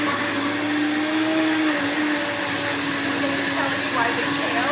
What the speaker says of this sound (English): So I'm gonna turn the blender on, and as the blender's on, I'm gonna just add the kale.